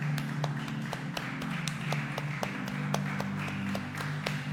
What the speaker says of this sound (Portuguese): Vamos dar nosso melhor aplauso ao Senhor nessa noite.